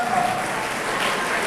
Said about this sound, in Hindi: बहुत सारी तालियां बजाएं।